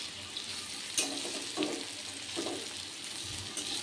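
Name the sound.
taro pieces frying in oil after being flipped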